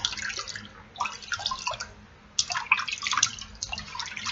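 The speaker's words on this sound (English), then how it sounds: "then I'll rinse it really, really well in water in the sink" Water splashing and dripping in a sink while a face is rinsed, soft irregular bursts of splashes with short pauses between them, close but quiet, with no voices.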